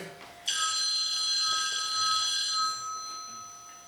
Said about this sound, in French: ça doit être la boule de cristal de Madame Fogg